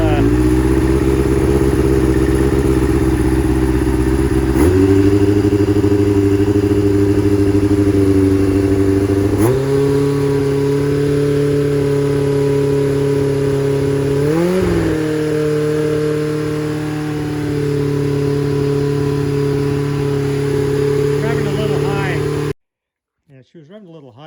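A 1989 Kawasaki Ninja ZX7 idles loudly nearby while its choke keeps dropping off, the engine hum shifting pitch in several steps and briefly revving before it suddenly cuts to near silence at the end.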